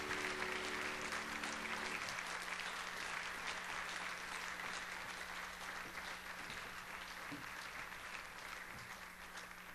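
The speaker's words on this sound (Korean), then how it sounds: "우리 최경욱 목사님 올라오실 때도 박수 한번 크게 해주시기 바랍니다" Loud, sustained applause from a church congregation at a Wednesday evening service, filling the space steadily as a pastor comes up to preach, with a low organ or keyboard hum in the first couple of seconds.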